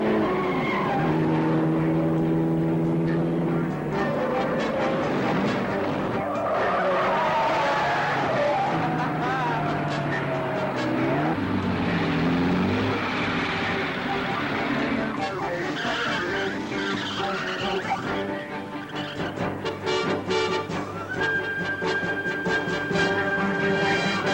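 A car driven fast through a chase sequence roars and skids, with long tire squeals and engine surges over a background of music.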